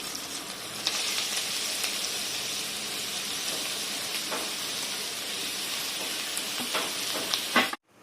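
Grated beetroot sizzles and fries in a pan with onion and ginger-garlic paste, a steady bright hiss with occasional stirring clicks, close and continuous until it cuts off near the end.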